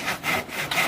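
Hand saw cutting through wood, a close rhythmic back-and-forth rasp of about four strokes in one second, loud with no voices.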